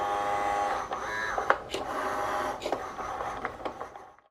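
A Cricut Joy 2 cutting machine works through smart material, giving a steady whirring motor hum broken by short carriage clicks and shifting tones, close by and without talk, tapering off at the end.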